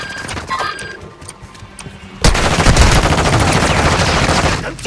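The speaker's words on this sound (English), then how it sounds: "I'm taking fire!" Rapid automatic gunfire in Call of Duty Warzone 2.0 DMZ on the Vondel map, a few faint distant shots and then a sudden dense burst of sustained fire that runs loud to the end, with no talk.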